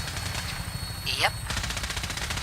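Gunfire in Fallout 4 at an airport, rapid automatic shots rattling in a continuous burst under a sweeping whoosh, loud and close.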